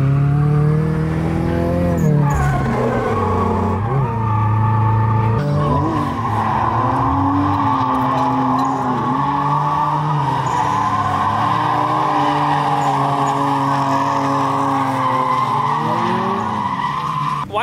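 A hoodless 2013 Scion FR-S drifts at a grassroots drift event. Loud, sustained tire squeal rides over a revving engine whose pitch sweeps up and down as the car slides, close and continuous the whole time.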